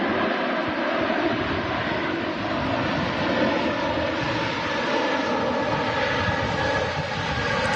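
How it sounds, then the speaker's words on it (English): A Jet2 Boeing 737 airliner touching down, a loud sustained engine roar and broadband rush that holds steady and close for several seconds, with no voices. "Just as this Jet 2737 Boeing airliner touches down."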